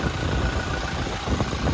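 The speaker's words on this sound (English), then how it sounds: "There's no unusual ticks or noises coming from the engine" Close, steady idle of a 2018 Toyota Hilux Rugged X engine, a low even rumble over a short stretch with no voices.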